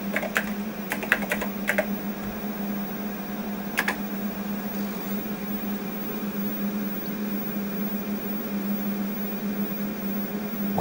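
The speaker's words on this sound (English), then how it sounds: "Wait a few seconds and type a CR." Keys tapping on a computer keyboard at an electronics bench, a few quick bursts of keystrokes early on over a steady low hum from nearby equipment.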